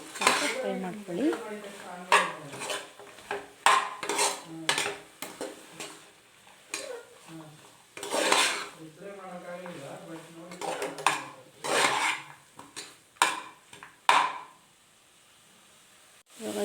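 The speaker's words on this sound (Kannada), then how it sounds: "ಅದು ಮಸಾಲೆ ಹಿಡಿಯೋವರೆಗೂ ನೀಟಾಗಿ ಅದನ್ನು ಸ್ವಲ್ಪ 3 ನಿಮಿಷ ಮಿಕ್ಸ್ ಮಾಡಿಕೊಂಡು ನೀಟಾಗಿ ಸ್ವಲ್ಪ ಫ್ರೈ ಮಾಡ್ಕೊಳ್ಳಿ" Mushroom masala frying in a pan for biryani, with a spoon repeatedly scraping and clanking against the metal over a faint sizzle, in irregular bursts with brief pauses.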